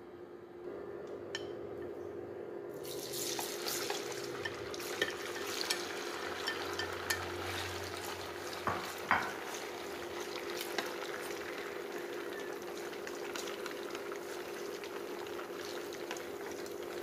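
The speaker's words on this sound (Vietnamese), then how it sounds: "Bây giờ mình sẽ đi chiên." Torn noodles fry in hot oil with a continuous dense sizzle that swells after a quieter start, accompanied by occasional light stirring clinks and a steady background hum.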